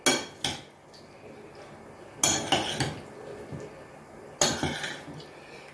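A utensil clinks and scrapes against a dish as a green bean, mackerel and potato salad is stirred, in three separate bursts of rattling contact, close and moderately loud.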